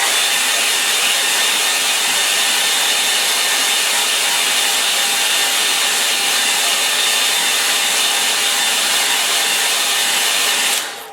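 A hair dryer runs steadily for about eleven seconds, drying a landscape painting with a loud, continuous airy whoosh that cuts off at the end.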